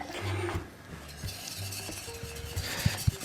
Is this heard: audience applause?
no